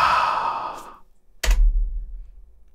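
Slow exhale from a creature in the 1991 DOS game The Squynchia Adventure, a loud breathy synthesized whoosh fading over about a second, followed by a sharp click and a brief low rumble.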